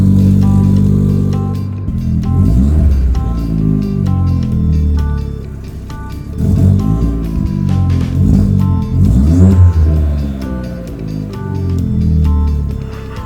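Chevrolet Sonic fitted with a catless downpipe revving loudly up close, repeated rising and falling throttle blips in a rough, aggressive rhythm.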